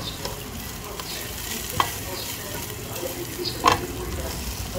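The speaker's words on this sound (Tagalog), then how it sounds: "Gisa-gisa lang hanggang sa mag-caramelize ang ating onions." Onions being sautéed and stirred in a pan for Visayan-style chicken tinola, a steady low frying sizzle with a couple of sharp scraping stirs standing out, no talking.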